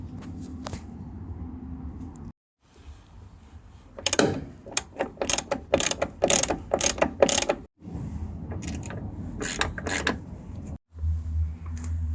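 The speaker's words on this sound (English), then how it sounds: "So that's bolted back in," Ratcheting clicks from a wrench tightening bolts on a VW Golf door check, coming in quick close bursts separated by short pauses.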